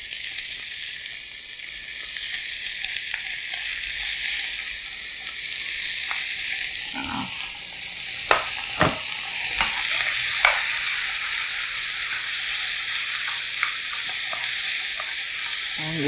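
Vegetables and shiitake mushrooms stir-frying together for japchae give a steady broad hiss of frying, with a few scattered clacks of a utensil in the middle of the stretch and no voices.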